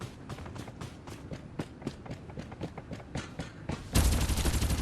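Rapid bursts of gunfire in the video game Farlight 84, with sharp repeated shots in quick rhythm ending in a louder, dense stretch of sustained firing.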